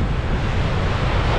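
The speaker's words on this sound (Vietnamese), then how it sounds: "biển sóng đánh dập dìu luôn" Rough sea waves break on a Japanese shore under a steady wind, a dense, continuous rush of surf with wind buffeting the microphone throughout.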